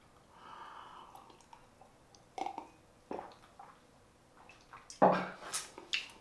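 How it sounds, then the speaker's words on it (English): Water splashes and drips as a face is rinsed after a traditional wet shave, with a few brief louder splashes and wet rubbing sounds near the end, close by and with no talking. "So I'm going to have a face wash and then we'll come back for the post shave."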